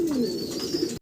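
A single red bar pigeon on a farm gives one short, close, throaty coo, alone and clear against quiet surroundings.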